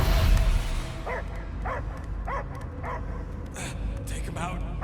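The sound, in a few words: dog barking in Guardians of the Galaxy video game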